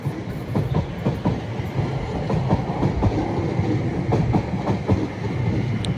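A London South Western Railway Class 701 Arterio train arrives at Clapham Junction, its wheels beating a steady clickety-clack over rail joints under a continuous close rumble, with no voices.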